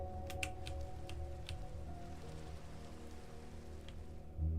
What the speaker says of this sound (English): Death is sitting here getting rained on.